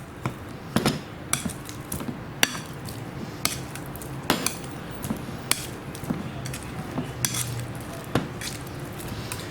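Softened butter mixture for roast chicken being mashed in a bowl, an irregular series of sharp utensil clinks and knocks against the dish over soft squishing, fairly close.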